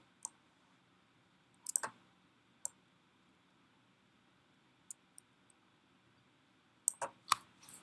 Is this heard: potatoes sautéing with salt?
no